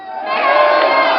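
A large outdoor crowd at a year-end concert in Gicumbi, Rwanda, shouting and cheering together, a loud sustained roar that swells and holds steady.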